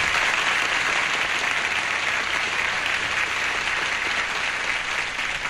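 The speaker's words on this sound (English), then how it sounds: "Let's have a nice round of applause for two fine players." Studio audience at a Tic Tac Dough game show breaking into steady, dense applause that holds at an even, full level throughout.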